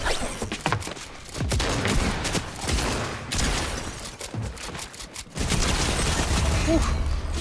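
Rapid bursts of automatic gunfire and fusillades in a shooter video game, loud and nearly continuous with brief gaps, close up, with players talking faintly underneath.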